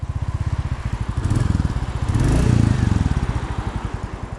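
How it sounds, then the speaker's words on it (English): Royal Enfield Bullet 350 single-cylinder thumping steadily on a test ride out of a garage, close and even, with the beat quickening as it pulls away. "am test riding the Royal Enfield Bullet 350."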